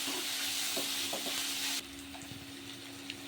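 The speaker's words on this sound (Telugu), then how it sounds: "చక్కగా టమాటో మీద ఉన్న స్కిన్ మొత్తం వచ్చేసేలాగా మనం రోస్ట్ చేసుకోవాలన్నమాట టమాటాని" Tomatoes roast in a pan for an egg kheema curry, a soft close sizzle with light stirring scrapes that suddenly drops quieter partway through and continues faintly.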